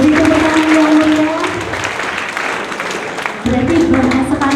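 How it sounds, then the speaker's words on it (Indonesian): An audience at a school visit event in Indonesia applauds, a dense, steady wash of clapping that holds throughout, with a tonal sound running underneath. "Beri tepuk tangan yang mulia."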